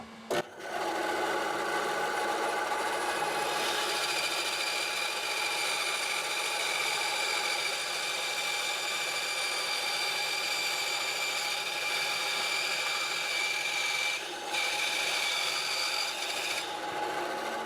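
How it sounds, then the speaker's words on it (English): A power tool cuts and sands scrap wood just outside a marked line while building a bed shelf, with a loud, steady whirring hum that runs continuously for most of the time, one brief dip near the end. "I'll just cut them a bit bigger than the line, then I can just sand it down to the line."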